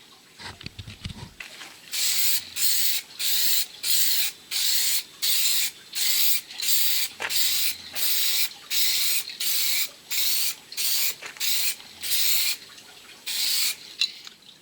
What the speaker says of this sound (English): For the first coat of primer, I used this aerosol can here that just says primer